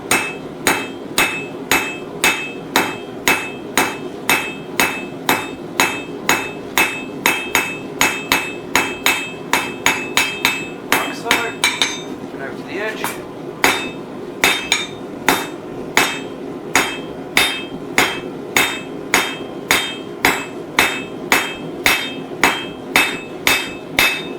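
A long run of loud, ringing texture-hammer strikes on hot metal, drawing a blacksmith's leaf pendant to a point, at an even pace, with a brief break midway before the pounding resumes. No speech.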